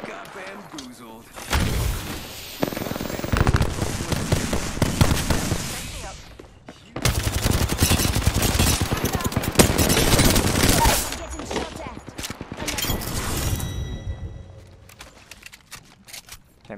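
Rapid bursts of automatic weapon fire in the Apex Legends video game crackle almost continuously and loudly, broken by a brief lull, with players talking over the shooting.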